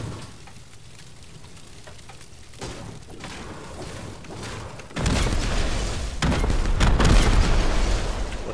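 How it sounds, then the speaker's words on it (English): Explosions in a video game sound as deep, rumbling booms that swell and grow louder in the second half, layered with crackling debris and a dense roar, with no talking over them. "Explosions!"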